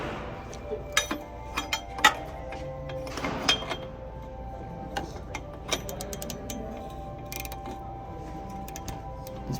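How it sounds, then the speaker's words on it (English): Large wrench ratcheting on a bolt during a test pipe install on a G35, a run of sharp mechanical clicks and clacks near the mic, bursts in the first half thinning to scattered ticks. "This big wrench is a little bit overkill, but It works. Go until it snaps."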